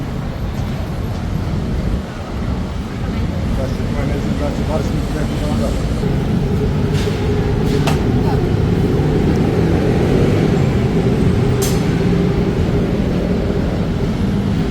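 Inside a driverless elevated train in Bangkok, a steady low rumble and hum of the moving carriage runs throughout, with a brief dip early on and faint high squeals and clicks, loud and close.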